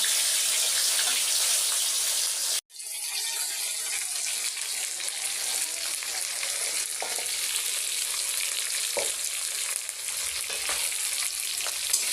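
Fish frying in oil until browned gives a dense, continuous hiss that cuts out abruptly for a moment, then resumes with a few soft clinks and scrapes, close up and without speech.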